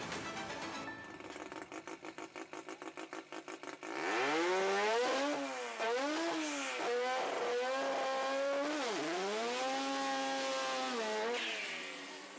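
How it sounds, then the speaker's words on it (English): At a drag racing event in Queensland, a sport compact drag car rattles with a rapid staccato idle, then roars off the line at full throttle, its engine screaming up through several gear changes and holding loud and close throughout. "The world's quickest sport compact drag car."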